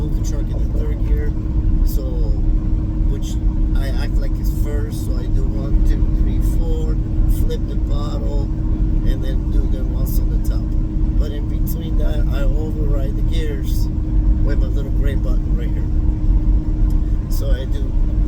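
A Peterbilt 389 semi truck with an 18-speed transmission rumbles steadily while running through the gears, a loud continuous diesel drone with cab noise and someone talking over it throughout.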